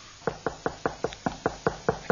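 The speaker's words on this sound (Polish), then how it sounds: "coś puka!" Ten evenly spaced knocks, firm and fairly close, a steady rapping rhythm with no talking over it.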